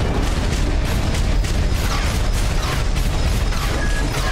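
Dense, continuous booming and crackling from explosions in the mech video game Armored Core VI, loud and unbroken throughout with no pauses between blasts.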